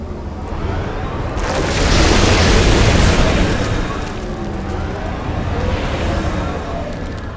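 An attack shot explodes in the strategy game Civilization Beyond Earth, a loud rumbling boom that swells to a peak midway and then settles into a lingering roar.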